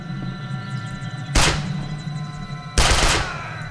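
Two loud, sharp sniper rifle shots in the video game Sniper Art of Victory, about a second and a half apart, each a sudden blast with a short decaying tail over quiet ambience.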